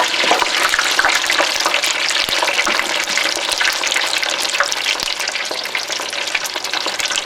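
Tater tots frying in hot oil after being dropped in: a loud, dense, steady crackling sizzle close by that runs on without a break, with no voices.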